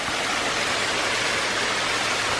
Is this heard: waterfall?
yes